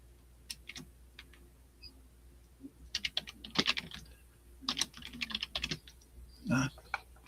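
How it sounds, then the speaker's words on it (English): Scattered keystrokes from typing on a computer keyboard at a live online auction, coming in irregular bursts and single clicks, with faint background voices. "I'm typing and it's not taking it."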